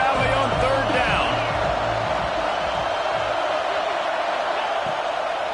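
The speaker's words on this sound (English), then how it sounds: "Here comes the noise from this big crowd in Happy Valley on third down." A big football crowd in Happy Valley roars on third down, a steady, dense wall of noise that holds for several seconds while an announcer talks over it.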